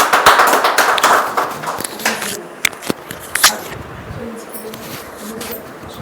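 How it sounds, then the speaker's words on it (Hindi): A congregation at a Sunday church meeting claps hands together, a dense loud burst of applause that thins out into scattered claps, with voices talking over it. "ये गवाही के लिए हम जोरदार ताली बजाएंगे।"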